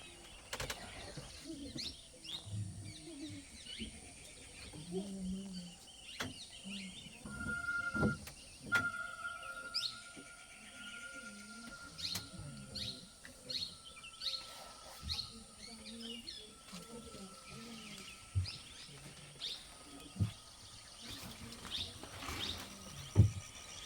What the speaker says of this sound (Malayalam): ഡ്രൈവറോട് വണ്ടി ഓഫാക്കാൻ പറഞ്ഞു ആ കാടിന്റെ സൗണ്ട് എന്ത് ഭംഗിയല്ലേ